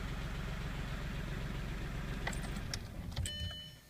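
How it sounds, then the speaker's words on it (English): A car engine idles steadily with a low, even rumble through most of the four seconds, a few clicks and a key jangle near the end before the running sound drops away as it is switched off; the car is logging an intermittent camshaft position sensor no-signal fault. "I will stop the engine because else we cannot hear anything."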